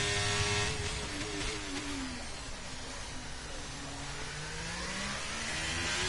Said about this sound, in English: This beautiful Ferrari coming down the straightaway.